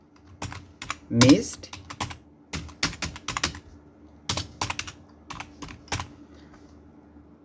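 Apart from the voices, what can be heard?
typing on a computer keyboard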